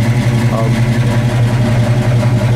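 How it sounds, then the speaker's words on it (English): A deep, rumbling big-block V8 exhaust on a 1966 Chevrolet Chevelle idles loudly and close by, a steady throbbing low burble with a voice faintly audible over it. "There's no sneaking home with this exhaust."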